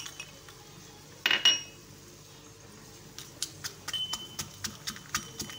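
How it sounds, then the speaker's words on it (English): Dry fried chilies being roughly crushed: a sharp clatter, then a run of light, rhythmic knocks and crackles close by. "here I am going to crush these fried chilies"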